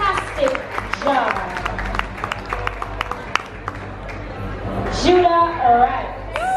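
Audience applause mixed with crowd chatter and cheering at a girls' pageant-style event in Jamaica, steady clapping under ongoing talk, with a voice rising near the end.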